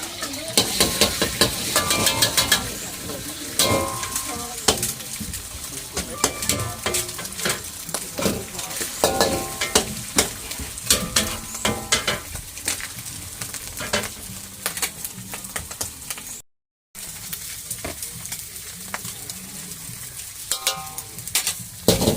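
Egg frying for pad thai at a market stall wok in Ban Rai, a steady sizzle with constant scraping and clanking of a metal spatula stirring against the pan, close and busy, with a brief dropout near the end.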